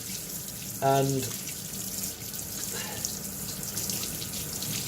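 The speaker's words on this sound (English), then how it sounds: "so as hot as you can stand it, under the tap, and then just wash, good wash" Hot tap water runs steadily into a sink while habanero or Scotch bonnet chillies are rinsed under it, a constant broadband wash with a brief spoken word near the start.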